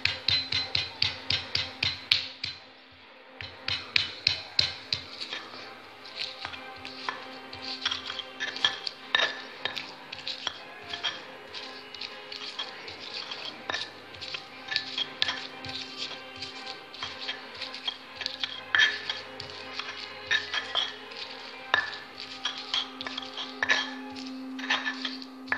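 Pepper being ground by hand with a mortar and pestle for potato perkedel, a steady series of close, sharp clinking and knocking strikes that keep going for the whole stretch with no voices over them.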